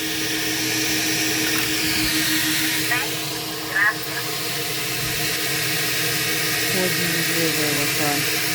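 A car wash vacuum cleaner runs continuously nearby, a loud steady whine and roar with faint voices briefly breaking through.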